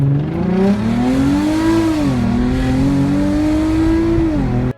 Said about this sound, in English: I have the stock setup, except I have no mufflers or no resonator, so it's very, very loud